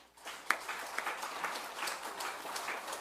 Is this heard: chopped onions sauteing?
no